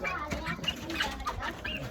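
Chickens cluck and chatter softly in short bursts, fairly close, with a slight background hum.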